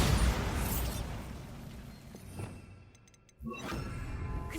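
Bombarda spell explosion in Hogwarts Legacy: a loud, broad rumbling blast tails off over a couple of seconds, followed by a brief chime and a second bright burst near the end.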